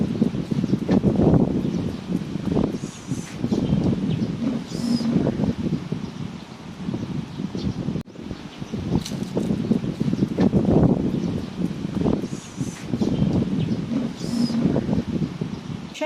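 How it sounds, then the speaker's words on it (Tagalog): Gusty wind blowing outdoors, a steady broadband rush that swells and eases over the whole stretch, with leaves rustling faintly and no talking. "Ay, nako, mahangin na naman."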